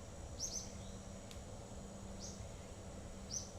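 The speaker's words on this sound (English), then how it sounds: "I hear a bird. I think it's coming from in-game." Birds chirp in the driving game The Long Drive, giving a few short, high calls spread across a steady hum of background noise, fairly faint and with no talk over them.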